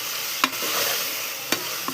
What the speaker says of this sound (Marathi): लसूण पेस्ट हा मी अगोदरच तयार करून ठेवलेला होता. आता हा परतून घ्यायचा आहे.